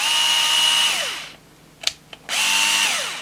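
A Wowstick 1F+ electric screwdriver whirs in two close, high-pitched bursts, each winding down as the motor stops, with a few small clicks in the quiet gap between.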